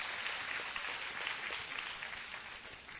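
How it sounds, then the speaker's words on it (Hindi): Audience applause at the inauguration of a meditation hall at a Brahma Kumaris retreat centre, a steady dense wash of many hands clapping together, loud and sustained for the whole stretch with no voices over it. "उन सभी भाई बहनों को अब दिल से जोर से ताली बजा करके अभिवादन करें।"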